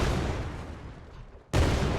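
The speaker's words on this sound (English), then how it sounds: "You see every time we turn this on, we hear that explosion sound." Explosion sound effect cue in Unreal Engine, a rumbling boom that decays over about a second and a half before a second loud burst cuts in abruptly.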